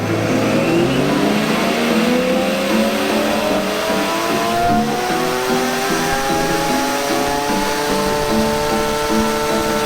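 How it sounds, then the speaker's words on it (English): A supercharged 2014 Jeep Wrangler JK with a RIPP supercharger kit revs hard on a dyno, its engine note climbing steadily in a loud, continuous pull with rising whine throughout. "Today on the dyno we have a 2014 Jeep Wrangler equipped with a RIPP Supercharger kit."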